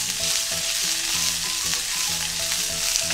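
Chicken skin fries over medium heat in an oiled pan, giving off a dense, steady crackle and sizzle up close, with faint tonal clinks repeating underneath and no one speaking.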